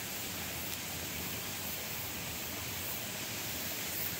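A mountain stream flows beside a valley, a steady broadband rush of water heard alone, soft and constant throughout.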